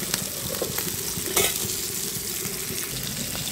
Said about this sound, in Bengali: এটাও আমি সুন্দর করে উল্টে পাল্টে লাল লাল করে ভেজে নেব